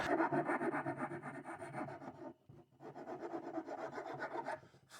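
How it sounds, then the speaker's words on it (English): Hand file rasping live oak hardwood while fitting a salvaged kitchen tabletop part, steady close back-and-forth strokes in a continuous rhythm, with a brief pause before filing resumes. "here I am making some final adjustments with the file and fitting it into place"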